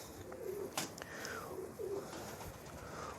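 Pigeons coo softly several times in short low calls over a faint, steady background hiss, with a brief sharp rustle partway through.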